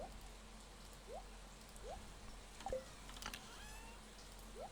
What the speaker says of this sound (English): It's a really dull, rainy day here today.